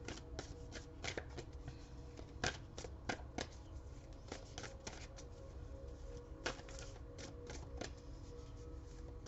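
Oracle cards being shuffled by hand, a steady run of soft papery riffles and flicks with sharper snaps throughout, close and fairly quiet, no talking.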